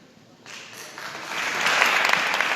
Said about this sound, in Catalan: Aplaude el público asistente en este concierto de Navidad en el Cabañal